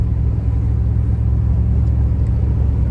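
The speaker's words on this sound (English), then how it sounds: "I'm actually going to switch to overdrive there." A truck engine drones steadily in overdrive, a loud continuous low rumble heard from inside the cab while driving, with no talking.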